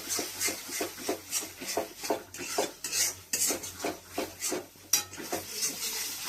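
Cumin and chili powder sautéing for chickpea ghugni, with steady clinks and scrapes of a spoon against the pan and a soft background sizzle, close and fairly busy throughout.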